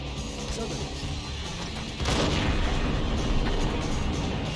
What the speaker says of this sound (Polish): tam wrzucę granat, zobaczymy co oni na to